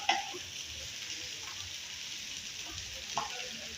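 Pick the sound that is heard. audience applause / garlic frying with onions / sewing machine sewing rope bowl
garlic frying with onions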